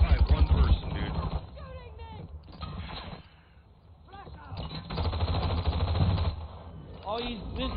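Video game gunfire rattles in rapid bursts and single shots through a noisy online match, mixed with loud excited voices talking over the action.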